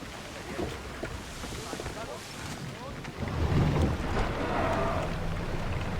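Sailing ship out at sea in Assassin's Creed Odyssey, with steady wind and water wash rolling under the hull, growing louder partway through, while voices murmur faintly in the mix.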